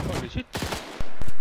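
Gunfire in the video game Arma 3, loud sharp shots cracking near the end after voices talking over game noise.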